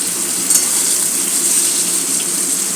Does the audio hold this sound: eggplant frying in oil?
yes